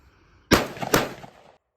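Mossberg 930 Tactical 12 gauge shotgun, two loud sharp blasts in quick succession about half a second apart, close by, each trailing into a short ringing decay before silence.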